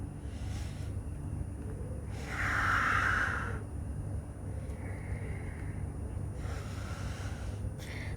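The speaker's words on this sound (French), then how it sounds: "On inspire, on expire." A slow yoga breath during a sun salutation, one long audible exhale rising out of a steady low room hum, with fainter breaths before and after.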